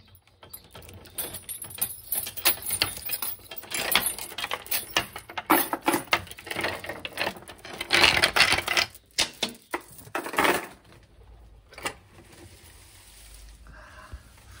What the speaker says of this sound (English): Laden with my shutter keys, it's time to open the shutters.